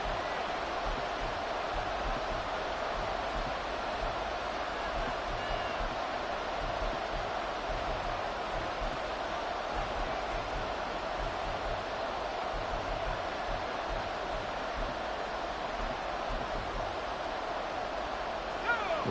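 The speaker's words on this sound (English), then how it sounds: "This crowd turning up the decibel level." Roar of a football stadium crowd, a broad, steady wall of cheering and noise that holds at a high level throughout without pauses.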